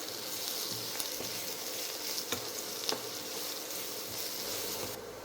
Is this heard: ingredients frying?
yes